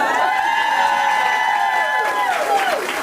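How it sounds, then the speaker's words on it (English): Cheering and applause at a school committee meeting honoring a retiree: crowd clapping with whoops and shouts, loud and continuous, plus a sustained whistle-like tone running across most of it before sliding away near the end. "deserves a cheering round of applause as well"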